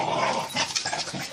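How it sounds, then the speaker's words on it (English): Dogs in a Dragon Age tabletop-style game session growl and snarl while fighting over a bone, a dense, continuous rough growling with whimpering yips, fairly close and steady throughout. "the dogs are chasing each other for a bone now"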